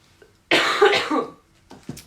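A single loud, close cough bursts out, followed by a few quieter throaty sounds.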